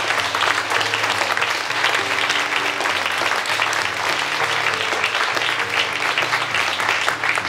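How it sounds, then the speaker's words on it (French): Audience applauding artists at a Rotary Club arts inauguration event, with dense, sustained clapping from a sizeable crowd that stays loud and even for the whole stretch, over a low background hum. "On les remercie encore avec des applaudissements nourris."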